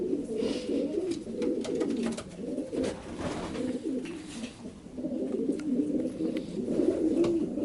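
Fabry and Janssen racing pigeons in a loft coo steadily in overlapping low, throaty calls, several birds close by with a faint background hiss.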